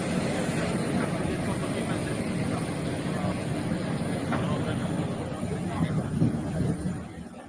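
A cargo plane's engines give a steady, loud, broadband roar that holds throughout, with faint murmuring voices mixed underneath.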